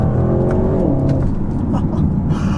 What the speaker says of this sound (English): I'm going to go ahead and do the manual mode here and see how some manual shifts are. Very immediate. Downshifts are quick.